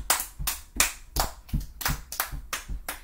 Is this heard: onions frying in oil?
no